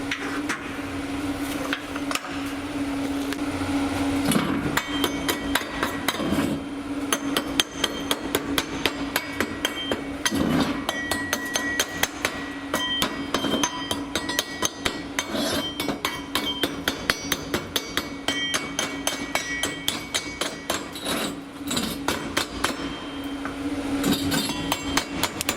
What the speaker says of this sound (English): So let's chip some slag.